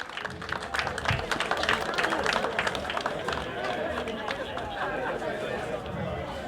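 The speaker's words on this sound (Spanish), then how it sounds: "¡Aplauso!" An audience claps warmly for a Paraguayan folk dance troupe performing in Libertad, a lively, sustained patter of applause mixed with crowd chatter and a voice speaking.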